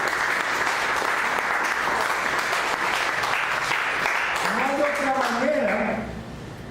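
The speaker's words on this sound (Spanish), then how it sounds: "Dale una ofrenda de palmas a Él" A church congregation claps in a full, sustained burst of applause that fades toward the end as a voice rises over it.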